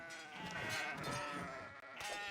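Goats bleat in the open-world game Kenshi, a couple of wavering, nasal cries close by and fairly quiet, one after another with a short break between.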